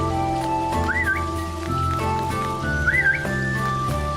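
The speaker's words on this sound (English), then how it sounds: "Can I whistle to you?" Two short rising whistles to a dog in Dinkum, heard near and clear over steady game music, with no talking.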